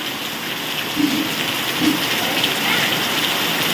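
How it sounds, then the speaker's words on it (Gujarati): Steady, dense rain hisses throughout with a constant broadband wash, a couple of faint low thumps rising briefly above it. "જોરદાર વરસાદ ચાલુ થઈ ગયો"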